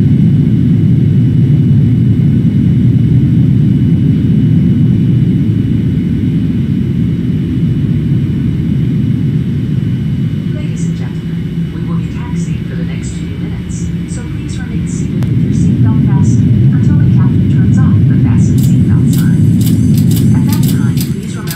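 Loud continuous jet engine roar of a QualityWings 787 on the runway in the Prepar3D flight simulator, swelling and easing, with faint clicking near the end.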